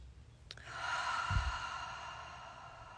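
One slow, deep breath, drawn in and released as a soft, airy sigh during a quiet guided meditation, heard alone and close.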